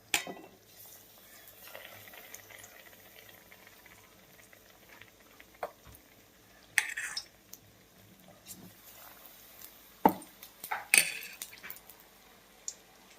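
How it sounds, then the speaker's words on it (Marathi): Cabbage bhaji deep fries in oil over medium heat, a soft steady patter and crackle of bubbling with scattered louder pops and clinks, close but faint, no talking. "तर हे बघा असं मध्यम आचेवरती याला आपल्याला फ्राय करून घ्यायचं आहे, डीप फ्राय."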